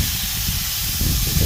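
Asparagus coated in Olive Garden Italian dressing sizzling on a hot outdoor griddle, a dense, steady close hiss with no talk.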